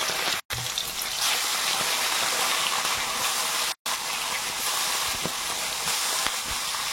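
Food goes into hot oil in a Sundarban home kitchen and sets off a loud, continuous sizzling hiss, cut by two short gaps.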